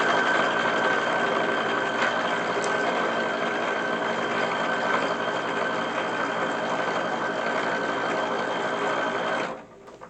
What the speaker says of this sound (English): Alright, sewing side seams together.